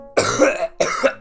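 Two loud, harsh coughing bursts close to the mic, the first longer and ragged, the second following after a brief gap, with no talking.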